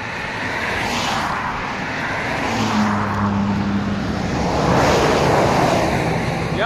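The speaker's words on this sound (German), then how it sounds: "Jetzt kommt wieder Lastwagen" Trucks pass a cyclist on a calm, windless road in New Zealand, with wind and tyre rush that swells and fades as each large vehicle goes by, then builds again.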